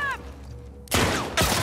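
Two bursts of gunfire in The Last of Us Part II, loud and close, breaking in abruptly after a quiet stretch with a brief tonal sound at the start.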